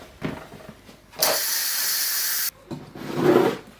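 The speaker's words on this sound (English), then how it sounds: "that just beeped, so I'm going to release the steam." A Russell Hobbs multi cooker vents steam through its release valve: a loud, steady hiss of about a second and a half, set between quieter clicks and handling noises.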